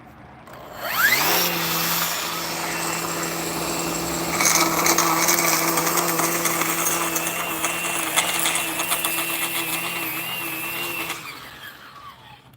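A small lawn mower engine starts and runs steadily with a buzzing, whining drone during a morning grass cut, fairly close and moderately loud, then cuts off near the end.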